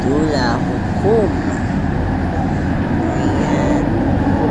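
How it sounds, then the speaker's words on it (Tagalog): An LRT train in Kuala Lumpur rumbles along, heard from inside as a steady, loud track and motor roar with a few brief, squealing tonal sweeps. "At ayan, nakasakay na kami ng LRT."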